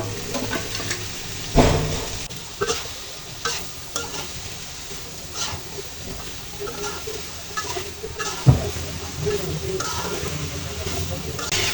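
Radish and potato pieces tumble into a spiced masala with taki fish and are stirred in, giving a low sizzle with scraping strokes and a couple of sharp clatters from the spoon against the pan.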